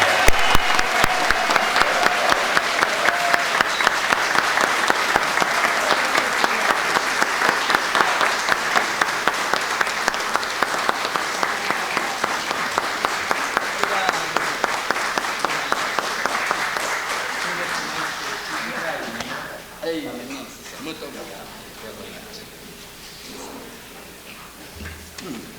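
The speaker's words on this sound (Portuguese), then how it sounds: "Essa manifestação efusiva de aplauso" A ceremony audience in Brasília, at a session granting an honorary citizenship, breaks into loud sustained applause with a rhythmic clapping pulse. It fades after about twenty seconds into scattered claps and murmuring voices.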